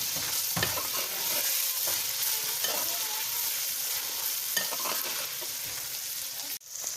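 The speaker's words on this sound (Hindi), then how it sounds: "मसाले को हम अच्छी तरह से मिक्स करेंगे।" A spoon stirs and scrapes masala spice paste with tomatoes around a hot pan, with a steady close sizzle of frying throughout.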